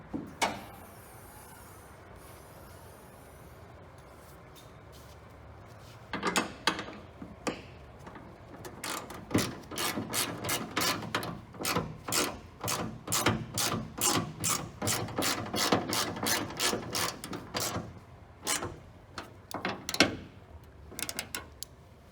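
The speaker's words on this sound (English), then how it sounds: "go ahead and tighten up all the bolts" A hand ratchet clicks in quick repeated bursts while hood bolts are tightened on a 2007–2010 Toyota Camry, with rapid close clicking after a quieter start and short pauses between strokes.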